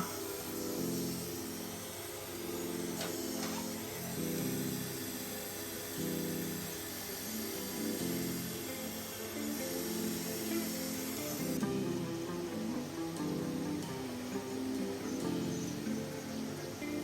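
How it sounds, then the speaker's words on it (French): A wine cork turning on a wood lathe while being sanded gives a steady, close whir with a continuous hiss and a faint rhythmic hum underneath, unbroken for the whole stretch with no talking. "On peut déjà passer au ponçage."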